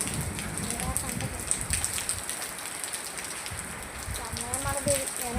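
Rain pours in a dense, constant hiss with scattered drop patter on a Sunday, and faint voices come and go behind it.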